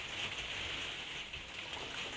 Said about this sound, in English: I don't know whether you can hear the rain started again.